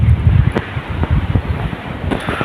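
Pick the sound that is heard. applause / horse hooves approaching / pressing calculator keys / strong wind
strong wind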